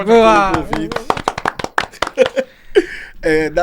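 A few people clap briefly in a small podcast studio to welcome a guest, with the sharp claps mixed under overlapping close talking and a bit of laughter.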